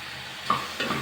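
Chopped tomato is stirred into big brinjal curry frying in a pan, giving a steady sizzle broken by two quick scraping stirs, close up and with no voices.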